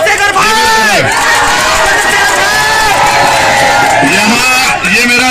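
Large, loud crowd gathered to welcome MP Chandrasekhar in his home district, with shouts, cheers and whoops rising and falling throughout, voices calling out over a dense, continuous roar of people.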